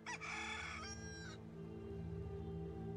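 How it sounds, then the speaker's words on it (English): In the Fallout 4 video game, a rooster crows once with a bright, harmonic cock-a-doodle-doo that lasts about a second over a low, steady ambient hum, then fades into the background drone. "Did I just hear a rooster?"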